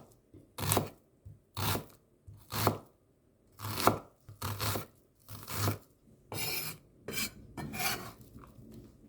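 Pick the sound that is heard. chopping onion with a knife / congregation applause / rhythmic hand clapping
chopping onion with a knife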